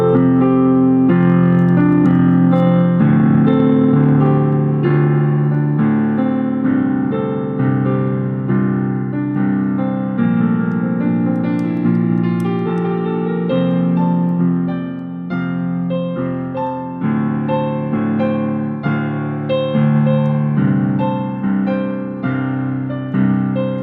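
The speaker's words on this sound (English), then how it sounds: "so now let me play the bridge for you" A piano plays the bridge of a song, sustained chords in both hands with steady, flowing rhythm, close and loud with no voice over it.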